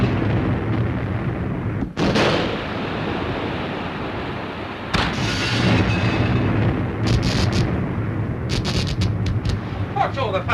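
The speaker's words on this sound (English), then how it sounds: "It's hard to tell with these depth charges." Depth charges exploding near a submarine in a 1943 British wartime film, heard as heavy rumbling booms and crashing surges with sharp cracks and a churning, surf-like roar between them.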